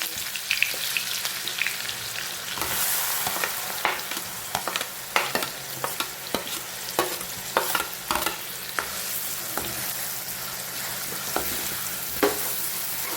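Onion frying in oil in a pan for pav bhaji, a continuous crackling sizzle broken by repeated sharp scrapes and clacks of a spoon stirring, close by with no voices.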